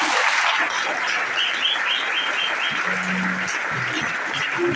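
A church congregation applauds loudly and steadily, a dense crowd of clapping hands that continues throughout, with a few voices and a brief hum showing through near the end.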